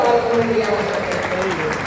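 Audience applause at a Hindi comic poetry gathering in Karnal, a steady broadband clapping wash at close range with a faint voice and some tonal sound running underneath.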